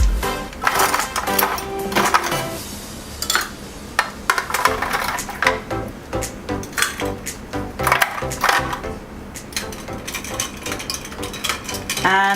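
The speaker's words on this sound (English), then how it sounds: "And last but not the least, ice cubes." Ice cubes clatter and crunch as they are stirred into a homemade drink, a close, irregular run of sharp clinks and rattles against a glass, with no talk.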